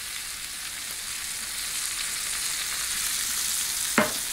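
Hot ghee sizzles steadily in a pan on a high stove while ribeye steak is being cooked, with a constant bright hiss and a brief sharper crackle near the end.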